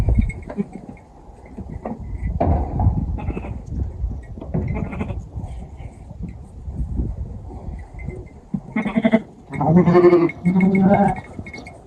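Sheep bleat on a farm in rural Bulgaria, a few scattered calls amid shuffling and handling noise, then louder, close, wavering bleats near the end.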